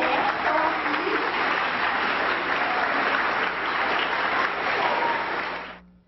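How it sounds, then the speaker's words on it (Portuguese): A crowd at a children's and adolescents' conference in Suzano applauds steadily for several seconds, the clapping full and sustained before it fades out at the end. "Tem uma salva de palmas para vocês, que vocês merecem estar aqui."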